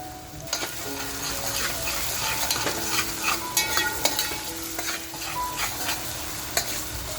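Chopped onion dropped into hot oil for a pulao, sizzling and crackling steadily up close while being stirred, with scraping clicks and small splashy bursts throughout.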